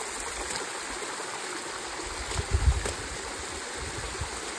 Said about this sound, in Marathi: या पायऱ्यांवरून पाणी खाली चाललंय